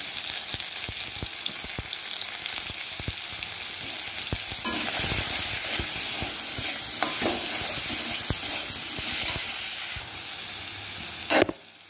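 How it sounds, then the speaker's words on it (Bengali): Potatoes with turmeric and salt fry in oil in a kadai, a steady close sizzle running throughout with occasional stirring clatter. "তো বন্ধুরা আমার আলুগুলো ভাজা হয়ে গেছে,"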